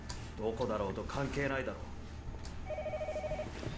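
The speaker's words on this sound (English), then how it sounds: "a shrill ringing fills his house" A house telephone in the visual novel Song of Saya rings with a steady electronic tone that starts just after narration speech, holding level and moderately loud to the end.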